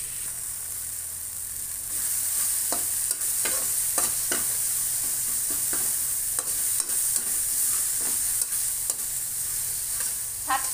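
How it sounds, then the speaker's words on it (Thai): Ginger and garlic stir-fry in a hot pan for a Lao-Isan bamboo shoot dish, with steady loud sizzling under a run of sharp utensil scrapes and clacks every second or so, close up and without speech. "ผัดจนหอมค่ะผัดจนว่าขิงกระเทียมเพิ่นหอมค่ะ"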